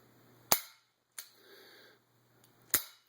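Dry firing a 1960s Smith & Wesson N frame tear gas gun, three sharp metallic hammer clicks with a softer mechanical click between them, close and crisp in a quiet room.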